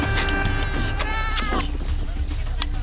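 Goats kept by Himba herders in Namibia bleat repeatedly in overlapping, wavering calls, several animals close by amid steady outdoor background noise.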